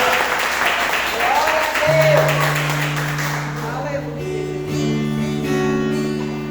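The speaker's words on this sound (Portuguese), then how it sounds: "Quem veio aqui para adorar Jesus, dá uma grande salva de palmas para ele nesta noite" A church congregation claps during a Sunday evening worship service, fading into sustained organ or keyboard chords, with a voice speaking over the start.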